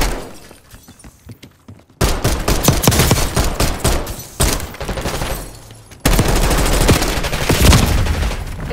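Rapid bursts of Call of Duty gunfire, machine-gun volleys starting faint and sparse, then erupting into loud, sustained automatic fire with crashing impacts in two heavy stretches.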